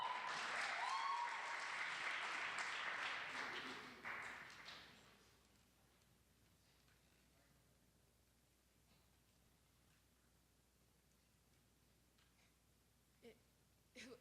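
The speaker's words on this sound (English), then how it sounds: "give her a round of applause" An audience at a talent hunt gives a round of applause that is loud for about four seconds, then fades out, leaving a quiet room with a few faint taps.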